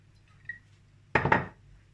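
Metal oven tray picked up for baking Sivas-style kömbe, a single bright clattering clank after a faint tap, close and brief against a quiet kitchen background.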